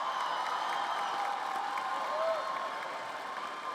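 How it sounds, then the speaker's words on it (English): An audience applauds at a university commencement ceremony, a dense, steady wash of clapping from a large crowd in a big hall that fades slightly toward the end. "Let's give Tom a round of applause."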